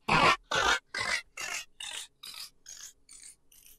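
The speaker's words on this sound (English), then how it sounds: "Picking up from the multi-tap delay, here's one I've just made." A short voice clip run through a multi-tap delay effect in Cubase, heard as nine evenly spaced bursts about half a second apart that grow steadily fainter and thinner, with no other talk.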